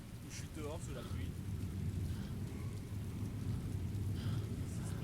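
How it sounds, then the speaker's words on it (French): Heavy rain and rolling thunder in an outdoor scene of the video game Heavy Rain, a steady loud downpour with low rumbles throughout and a few faint voice-like sounds mixed in. "je suis dehors sous la pluie?"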